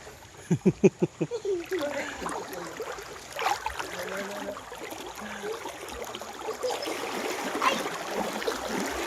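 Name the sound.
river water flowing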